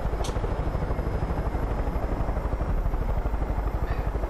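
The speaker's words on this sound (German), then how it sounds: "Helikopter ist hier auch schon ein bisschen angeschlagen" A damaged helicopter in the video game Far Cry 5 flies with a steady, loud, rapid rotor chop and engine drone throughout, alone with no talk.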